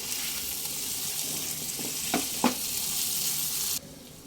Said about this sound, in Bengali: এবার ভেজে উঠিয়ে রাখা পটলগুলো সব দিয়ে দেব দিয়ে আরও দুই থেকে তিন মিনিট একটু কষিয়ে নেব